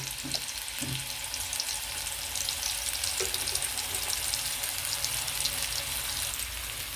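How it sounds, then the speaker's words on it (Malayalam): Garlic, shallots and ginger fry in coconut oil, producing a constant bright hiss of sizzling with faint low taps of stirring early on and no speech. "വെളുത്തുള്ളി, ചുവന്നുള്ളി, തുണ്ട് ഇഞ്ചിയും കൂടി ഞാൻ ഇട്ടിട്ടുണ്ട് കേട്ടോ"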